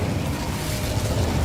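Incendio fire spell cast in Hogwarts Legacy, a dense roaring whoosh of flame with a deep rumbling body, loud and continuous, with no talk.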